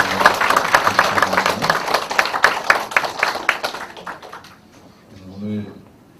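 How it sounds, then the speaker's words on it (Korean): Dense applause from a church congregation at a second-anniversary thanksgiving service, steady for about four seconds and then dying away, followed by a brief voice. "한번 박수로"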